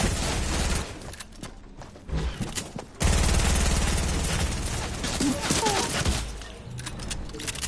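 Dense rapid gunfire from a first-person shooter video game, loud continuous bursts with short gaps, no talking over it.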